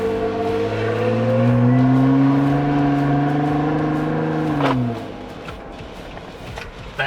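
A repaired car pulling away after being brought home on a truck, its engine revving up loudly and steadily nearby for several seconds before dropping off, leaving quieter background noise.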